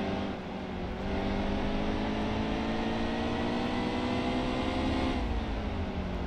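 NASCAR race cars at Bristol in NASCAR Heat 2 hold a steady, loud, droning engine roar, layered motors whining at high revs with a slight pitch dip near the end, continuous and close with no talking.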